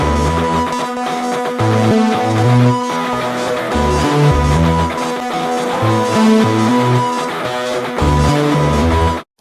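Layered synth and guitar form the driving rhythm of a cover, a steady pulsing pattern of repeated bass stabs under dense sustained tones. It plays loud and full with no voices, then cuts off sharply at the end.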